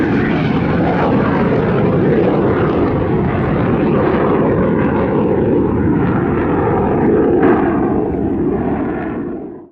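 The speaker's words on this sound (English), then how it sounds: "In New York, John Blanchett readies his award-winning jet Red 620 for the coming air show season." A MiG-17 jet at an airshow, its engine giving a loud, continuous roaring rush for nearly ten seconds before cutting off abruptly at the end.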